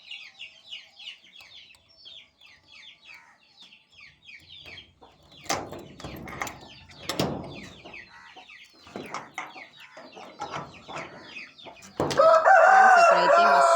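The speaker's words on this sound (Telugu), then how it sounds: "మీకు వినిపిస్తుంది సౌండ్, కోళ్ళు ఎలా గోల్ చేస్తాయి అనేది." Hens cluck and chatter inside a coop, waiting to be let out, with sharp clucks and a cock crowing in the middle. A louder burst of flapping and squawking comes at the end.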